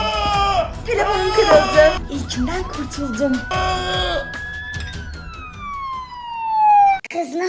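An ambulance siren wails and sweeps in pitch, rising then sliding down, mixed with excited voices and scattered music-like tones.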